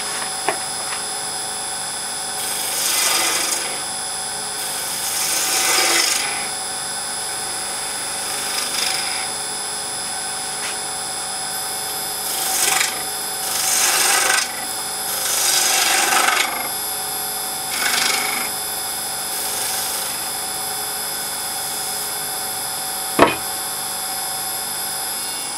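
A three-eighths spindle gouge is turning a slightly wet wood blank on a lathe, producing repeated rasping cuts in short bursts over a steady motor hum, close by, with a single sharp knock near the end.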